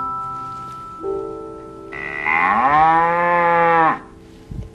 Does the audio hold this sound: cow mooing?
yes